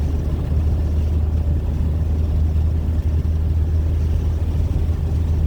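Continuous loud roar of road and wind noise from inside a moving car with its windows open, steady and unbroken, with no one speaking.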